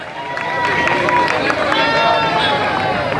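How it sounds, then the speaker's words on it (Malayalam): A crowd claps and cheers at a prize draw, a dense, sustained burst of applause that fills the space loudly throughout. "കൊടുക്ക കൈയടി."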